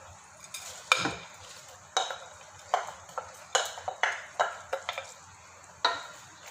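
Soaked basmati rice being stirred into a pot of boiling water for veg pulao, with repeated scraping, clinking strokes of a spoon against the pot over a steady bubbling sizzle, close and moderately loud.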